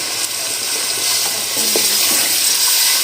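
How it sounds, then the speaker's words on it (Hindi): Water poured into a pot of chicken and egg curry, a broad steady hiss and wash of liquid running continuously at close range with no voices. "इसमें मैं तकरीबन 3 गिलास पानी ऐड कर दूँगी।"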